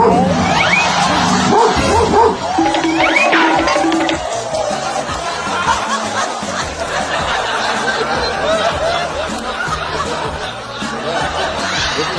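A small dog barks and yips in short bursts amid a busy street scene, with people talking and laughing around it throughout.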